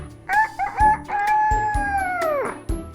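A rooster crows once, loud and close, in a long drawn-out cock-a-doodle-doo with a few short clucks and knocks around it. No one speaks.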